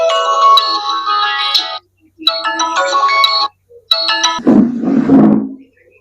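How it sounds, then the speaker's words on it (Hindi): An electronic phone ringtone plays a bright melodic pattern in three bursts separated by short pauses, followed by a low rumbling noise. "लो थाला पर फोन आ रही है।"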